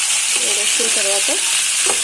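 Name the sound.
boiled liver frying in oil in a pan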